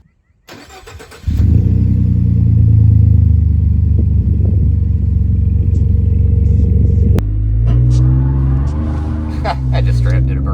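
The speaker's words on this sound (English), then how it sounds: "I just straight up did a burnout, that's it" A Ford F150 EcoBoost pickup roars to life and holds a loud, heavy engine rumble during a burnout, then shifts to a lower, surging growl as the revs change, close and dominant.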